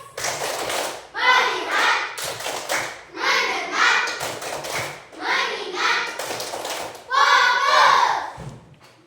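A class of children doing the 'tepuk fokus' clapping chant, sharp rhythmic claps in repeated groups alternating with loud chanted voices, close and energetic.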